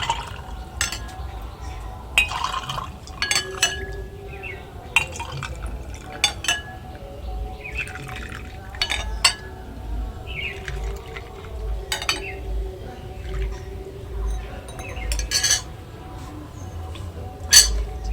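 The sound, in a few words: mint lemon sherbet poured into a glass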